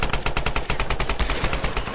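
Rapid automatic gunfire from the Tomb Raider video game, a loud, steady stream of evenly spaced shots rattling without pause from start to finish.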